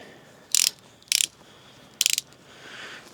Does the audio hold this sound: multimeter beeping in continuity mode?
no